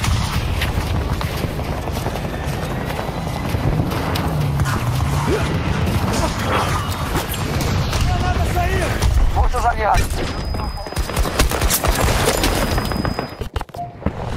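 Battlefield 2042 gunfire with bursts and impacts crackling through a dense, loud battle mix over the whole span, nearby explosions and mechanical din mixed in, with a voice talking throughout.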